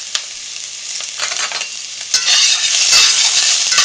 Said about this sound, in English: I've got this on high heat, and so my onions are and my garlic is starting to brown lightly